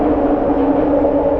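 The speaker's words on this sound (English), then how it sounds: "So that sound is the cars driving on the grates." Cars roll across the metal grate deck of a large suspension bridge over water, making a loud, steady droning hum with a rough rumbling texture in one short unbroken stretch.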